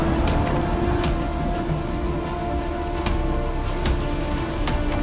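A heavy video-game rainstorm pours down steadily, a dense, loud hiss of rain on surfaces with scattered sharp drop impacts and no talking throughout.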